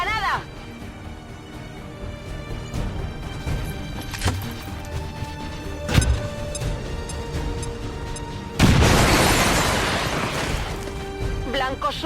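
A grenade explosion in a video game sounds as a sharp loud burst with a rushing blast partway through, among scattered game impacts and thuds, with a voice talking over the action.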